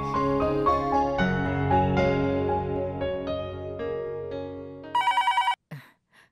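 A telephone rings in repeated short electronic bursts, loud and close, over a sustained musical tone that ends abruptly before a brief pause.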